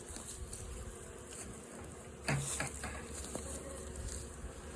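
Outdoors, honeybees buzz around a hive fitted with a two-gallon liquid feeder, a soft, steady hum of many insects under faint background noise, with one brief closer burst of buzzing partway through.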